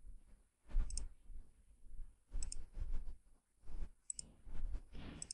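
Mouse clicks while working in Catia V5 software on a computer, a few sharp, quiet clicks spaced out among soft handling noise, close up with no talking.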